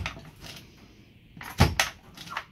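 A window in a converted van is opened by hand, with a few soft rubbing slides followed by a couple of firmer knocks and a clunk, close and fairly quiet.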